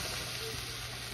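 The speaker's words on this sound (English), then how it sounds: "As for the pierogies, they're super simple if you're just pan frying" A steady, quiet sizzle of pierogies pan frying, an even hiss throughout with no voices.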